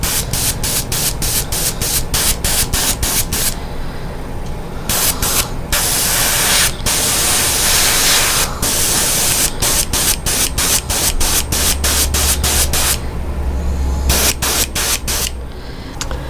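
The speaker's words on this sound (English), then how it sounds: "I'm angling the airbrush straight across the back here" An airbrush sprays paint onto a Mooneye-pattern fishing lure, giving a loud, close, steady hiss broken into bursts by short on-off pauses throughout.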